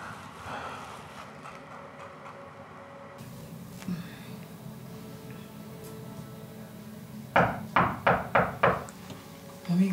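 Knocks on a house door in a Nigerian drama: a quick run of about five sharp, loud raps near the end, after a stretch of muffled background sounds.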